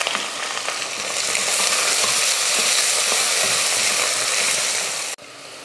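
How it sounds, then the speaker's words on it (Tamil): Onions fry in oil with cloves, cardamom, star anise and bay leaf, a loud, dense, continuous sizzle with stirring clatter that cuts off abruptly near the end. "வெங்காயம் நல்லா கலர் மாதிரி வதங்கிடுச்சு"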